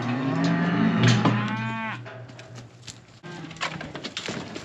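A cow in a cattle chute lets out a long, loud, close moo with a falling pitch, followed by a shorter second call, as wood clatters and knocks faintly in the background.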